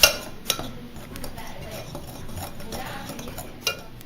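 Cinnamon is stirred into dry funnel cake batter ingredients in a bowl, with a spoon or whisk clinking and scraping against the bowl in quick strokes and a few louder knocks, close and with no talking.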